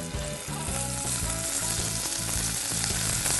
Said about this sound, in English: And you want to hear that sizzle in the pan.